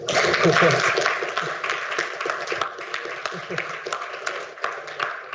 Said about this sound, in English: Can we have a round of applause for Thomas, please?